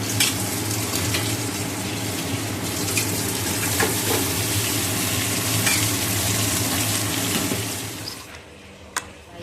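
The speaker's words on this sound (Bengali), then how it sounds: "এই দেখো আলু আর গাজরটা হালকা করে ভেজে নিলাম" Potato and carrot pieces fry in a pan for chow mein, giving a steady, close sizzle with faint stirring scrapes throughout, fading somewhat near the end.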